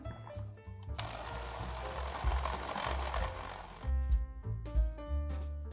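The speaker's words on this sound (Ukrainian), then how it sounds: "Збийте цукор і жовтки до білого." An electric mixer whirs steadily while beating sugar and egg yolks for coconut cookies. A loud, continuous motor drone runs through the middle of the clip, with quieter clinks and motor hum before and after.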